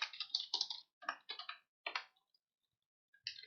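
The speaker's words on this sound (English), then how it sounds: "I'm going to type out the function call first and then go define the function." Bursts of key presses on a computer keyboard while writing C code, clustered in quick runs with short pauses, close and fairly clear, ending in a brief silence before another burst.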